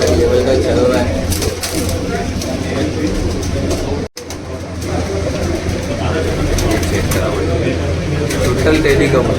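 Teddy pigeons coo in a dense, continuous murmur over a busy background hum at a pigeon loft, with brief clattering and a short dropout midway.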